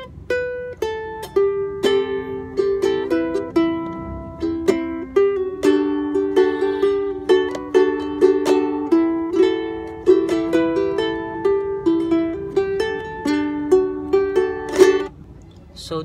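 Fingerstyle ukulele plays the verse of a song. Clear, close, plucked notes come at a steady, gentle rhythm, with sliding melody lines over soft chord tones.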